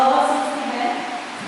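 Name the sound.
congregation blowing to imitate wind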